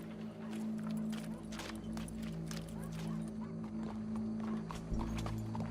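Horse hooves clip-clop steadily in Red Dead Redemption 2, a continuous rhythmic plodding carried under a low droning background, with faint voices and occasional horse noises mixed in.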